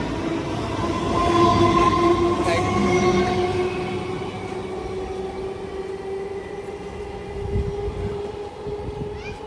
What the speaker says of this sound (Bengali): এই EMU লোকাল ট্রেনগুলো ছাড়ার সময় মোটর কারের যে একটা হামিং নয়েজ হয়